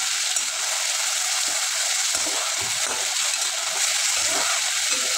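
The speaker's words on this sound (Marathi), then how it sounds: "बटाटा आणि टोमॅटो थोडेसे शिजायला पाहिजेत, मऊ व्हायला पाहिजे चांगले. त्यामुळे सरळ असं चांगलं 1-2-3 मिनटं परतून घ्यायचं आहे असं तेलावर" Chopped potato and tomato with coriander sauté in hot oil, giving a steady, close sizzle with faint stirring scrapes for the whole stretch and no talk.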